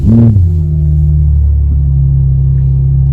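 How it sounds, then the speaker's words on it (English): A 2022 BMW M4 Competition xDrive's six-cylinder engine fires up with a brief loud burst from the starter, then settles into a steady, deep, throbbing idle close by. "and that 6-cylinder comes to life"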